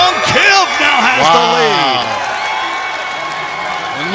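A stadium crowd of Seahawks and Cowboys fans cheers and applauds in Madden 18 during a goal-line run, a steady roar that is loud at first and eases slightly, with a commentator's voice over the top.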